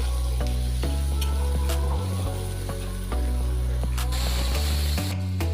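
Onions frying in mustard oil for a Bengali lote fish curry, a close, steady sizzle broken by scraping stirs and clinks of a utensil against the pan.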